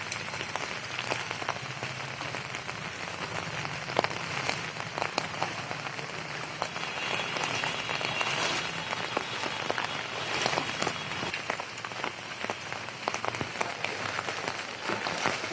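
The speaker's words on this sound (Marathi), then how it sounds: "या ठिकाणी पावसाने काय वातावरण आहे या ठिकाणी आपण पाहू शकतो" Steady rain falls around the Siddhivinayak temple grounds in Pragati Nagar, Nalasopara, Palghar, a dense continuous patter on nearby surfaces with no voices.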